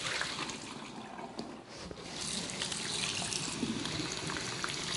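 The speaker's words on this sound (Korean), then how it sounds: "계속 흐르는 물 졸졸 틀어가지고 준비하고" A kitchen tap runs steadily while pufferfish bones are rinsed, giving a continuous splashing, hissing stream of water up close that grows slightly fuller partway through, with no speech.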